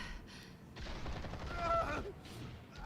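Gunfire erupts in Batman: The Telltale Series, a dense burst of rapid shots lasting over a second amid other game sounds, followed by a shouted voice.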